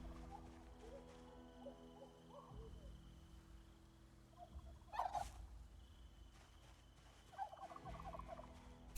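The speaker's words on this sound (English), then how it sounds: "Turkey on the loose." A turkey gobbles in a farm animal scene from the zombie survival game Project Zomboid, a short rattling burst of calls over quiet ambient tones, with a few fainter bird sounds before and after.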